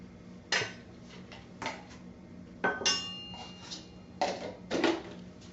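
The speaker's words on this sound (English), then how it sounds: "And then just give it a quick stir." A metal utensil stirs grated Parmesan cheese into pan-fried kale, giving about five separate clanks and scrapes against the pan, spaced irregularly and fairly quiet, with no one talking.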